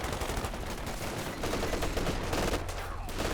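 Machine gun fire in the Company of Heroes 2 strategy game, dense continuous bursts of automatic gunfire and overlapping shots from a pinned-down MG position, loud and unbroken, with commentary faintly underneath.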